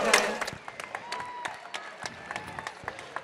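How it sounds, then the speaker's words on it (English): Crowd applauding two female fighters after a bout at an Infliction Fight Series event, a steady wash of clapping with scattered cheers from a large audience, moderately loud throughout. "How about a round of applause for our two ladies here tonight?"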